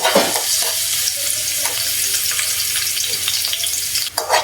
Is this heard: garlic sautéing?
yes